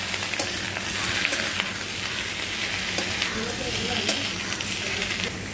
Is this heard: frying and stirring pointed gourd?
yes